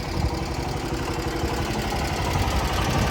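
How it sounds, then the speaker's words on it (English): A gas engine on a Morrison PB6R stand-on concrete buggy idles steadily and close, a dense, even chugging with a faint rattle running through it and no voices. "Engine runs good."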